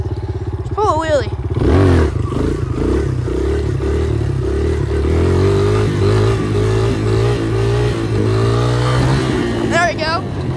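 Dirt bike engine revving hard as the rider pulls a wheelie, a loud, close, steady roar rising in pitch over about eight seconds, with someone talking over it at the start and end.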